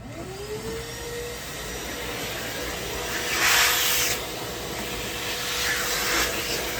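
A vacuum cleaner runs steadily with a whooshing hiss while cleaning up dust after a cut during a photo booth build, the motor whine rising and swelling partway through, close and loud with no talk.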